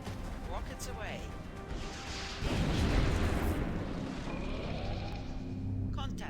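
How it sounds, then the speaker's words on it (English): A shredder rocket in XCOM Enemy Within explodes partway through with a loud, rumbling blast that lingers and fades, while someone talks before and after it. "let's start the action with a shredder rocket and do some real damage on these guys"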